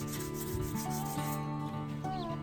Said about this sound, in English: So today I'm just going to work on getting them sanded